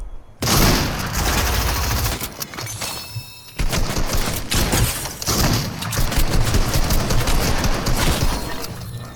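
Rapid bursts of video game gunfire, played one-handed, rattle loudly through most of the stretch with a short lull partway, with no talking over it.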